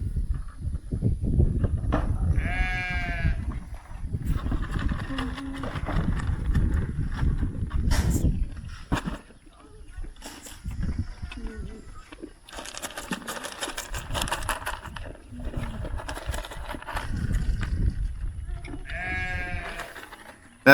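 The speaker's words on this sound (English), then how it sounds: "That's the sheep you can hear in the background." Hungry sheep bleating from across the road on a farm at feeding time, several distinct harmonic bleats at the start, middle and end over steady nearby munching and background noise.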